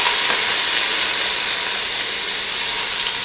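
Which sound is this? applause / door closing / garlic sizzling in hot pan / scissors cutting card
garlic sizzling in hot pan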